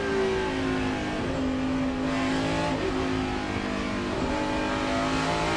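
At the 2006 Dodge Save Mart 350, a NASCAR stock car engine revs hard and snaps through several quick gear shifts, its pitch climbing and dropping in short bursts, loud and continuous with no talking.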